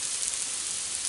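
Grain- and sugar-free apple pancakes sizzling in a frying pan, a soft, even hiss of fat without pause, close and fairly quiet.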